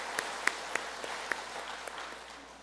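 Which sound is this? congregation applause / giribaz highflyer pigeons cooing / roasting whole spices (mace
congregation applause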